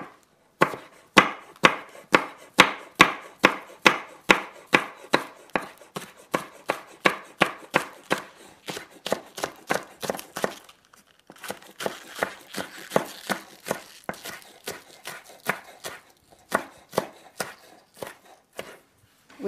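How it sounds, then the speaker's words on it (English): A knife chops green onion on a cutting board in a fast, steady run of crisp knocks, close and loud, with a brief pause midway before the rapid rhythm resumes, no speech. "We can practice our chopping skills here too."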